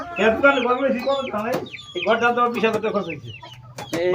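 Chickens of a new breed clucking and calling on a chicken farm, close and fairly loud in repeated bursts, with other birds chirping at higher pitch between them.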